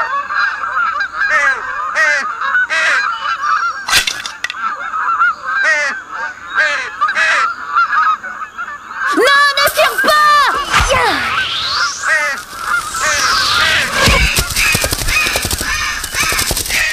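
A large bird in an animated film about the Buddha gives loud, repeated honking caws, a string of harsh calls up close and alone, then a burst of frantic squawking.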